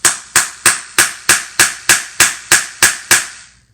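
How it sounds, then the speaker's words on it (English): Hammer striking through waterproof canvas, eleven loud, sharp blows close up in a steady, even rhythm, each with a short ringing decay and no talking. "hammer. Sorry, it's really loud."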